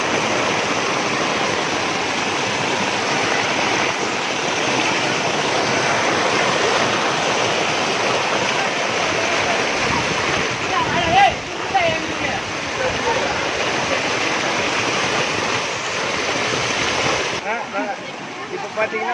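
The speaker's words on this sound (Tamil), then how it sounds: "எங்கள் ஊரில் வரலாறு காணாத மழை, செம தண்ணி போது அடிச்சுக்கிட்டு பாருங்கள்" Floodwater surges through a village in Tiruvannamalai district after record rainfall from Cyclone Fengal, making a steady, heavy rushing roar close by. Someone speaks over the water, and near the end the camera turns and the sound briefly thins.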